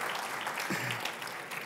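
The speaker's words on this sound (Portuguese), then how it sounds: "Salva de palmas para essa esposa maravilhosa" A church congregation claps steadily throughout, a dense wash of applause at moderate volume with no pauses.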